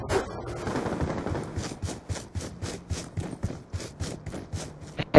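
Rapid gunfire bursts from a video game shooter match rattle on in quick repeated volleys at a steady, moderate level, with no talk over them.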